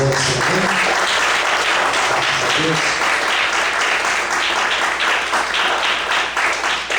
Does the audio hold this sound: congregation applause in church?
yes